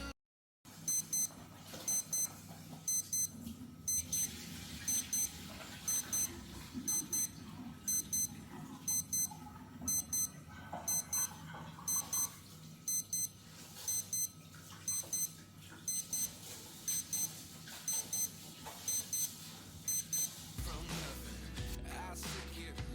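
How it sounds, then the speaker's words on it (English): A Casio digital watch alarm built on the 3454 module sounds a steady series of thin, high electronic beeps in rhythmic bursts, fairly faint and close, with low background hum underneath. "the alarm sound is just as clear as that of the"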